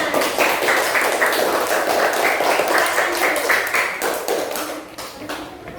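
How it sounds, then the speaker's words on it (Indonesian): Students in a classroom clap their hands together as a group, a bright run of uneven claps and taps that thins out toward the end, with children's voices faintly mixed in. "Oke, tepuk tangan."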